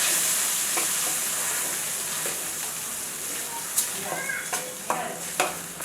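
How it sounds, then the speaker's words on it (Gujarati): Onion gravy fries in a pan with a continuous sizzling hiss. Toward the end a spoon stirs it, making several distinct scraping clinks. Nearby and unaccompanied by speech. "ત્યારબાદ આપણે નાખી દઈશું કાંદાની ગ્રેવી અને તેને બધાને સારી રીતે મિક્સ કરી દઈશું"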